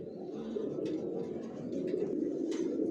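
A pair of grizzle racer pigeons cooing, a soft low warbling murmur that carries steadily throughout, close by, with a few faint higher chirps on top.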